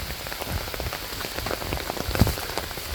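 Rain patters on an umbrella and surrounding leaves on a mountain trail, a dense, steady spray of close droplet taps with a few heavier plops, with no talk.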